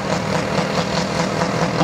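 A compact diesel tractor engine, a small Massey Ferguson, running with a continuous mid-range rumble, fairly loud and close, holding a constant pitch without clear surges.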